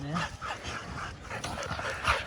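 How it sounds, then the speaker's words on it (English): Hunting dogs barking and yipping close by after catching a boar, with excited whimpers amid rustling, outdoor noise. "Good chase from the dogs."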